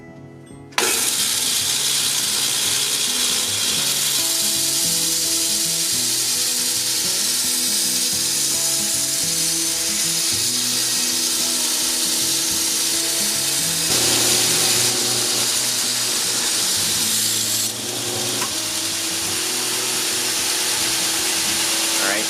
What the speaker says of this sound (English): Go ahead and grind an edge on her.